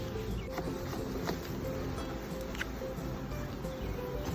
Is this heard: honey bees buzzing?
yes